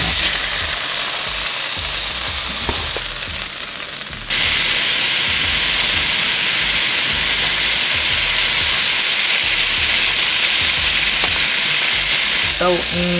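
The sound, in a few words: chicken frying in pan for lo mein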